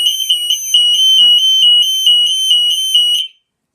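An Optima or Sonade burglar alarm siren under test blares a loud, steady piercing electronic tone close up, holding for about three seconds before cutting off abruptly into silence.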